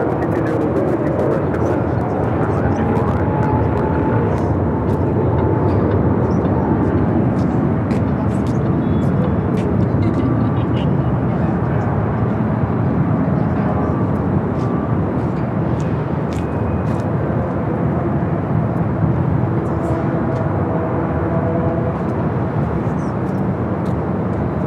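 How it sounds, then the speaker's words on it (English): A JetBlue jet rolls down runway 24 left at Los Angeles International for takeoff, its engine roar building into a loud sustained rush with a rising whine, continuous and fairly near, with light clicks over it. "Let's go to a JetBlue lined up, now rolling down to 24 left."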